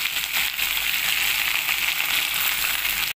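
Pennywort (vallarai) leaves sautéing in a pan, a dense, steady sizzle and hiss with faint crackles, close and continuous until it cuts off abruptly.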